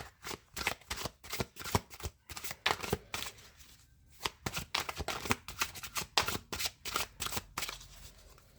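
Playing cards riffled and shuffled by hand for a card reading, a rapid series of close, crisp flutters and snaps in repeated bursts with a brief pause midway.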